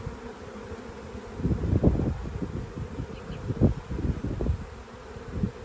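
Honeybees buzz busily during a swarm hive inspection, a dense steady hum close by with louder swells as insects pass near.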